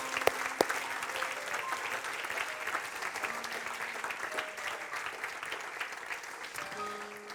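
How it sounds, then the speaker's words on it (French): A church congregation claps in sustained applause at the close of an evening service, a dense even patter of many hands filling the room with faint voices mixed in. "tous ceux qui l'aiment lui donnent une grande acclamation en terminant ce soir"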